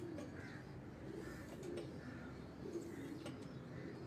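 Pigeons of a breed kept by a fancier cooing at close range, soft low repeated coos arriving every second or so against a steady background, with no talk.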